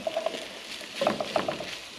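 Food frying in coconut oil in a pan, a soft steady sizzle with scattered pops and light crackles close by, no talking.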